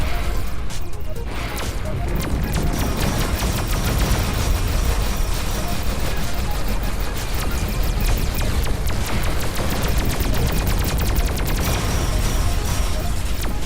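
Dense, unbroken barrage of space-combat weapon fire in Everspace 2, with ships shooting singularities and anti-shield missiles; loud crackling blasts and booms pile on one another for the whole stretch.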